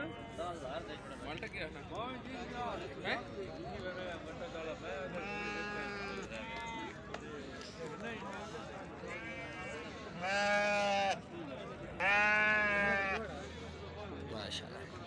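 Turkish breed sheep lambs bleating in a pen, several loud drawn-out bleats rising over steady background talk, with the strongest calls coming near the end.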